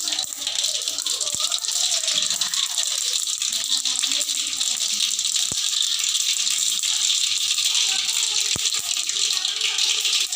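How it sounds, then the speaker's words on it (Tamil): Mustard seeds spluttering in hot oil during tempering for tomato rasam, a dense continuous crackle and sizzle that stays steady and fairly loud throughout, with a few sharp pops standing out. "கடுகு பொரிஞ்சிட்டு"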